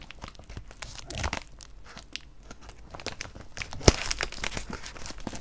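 Thermal insulation packing is pulled and torn open by hand, with close crinkling and ripping noises, a sharp crunch partway through and steady rustling throughout.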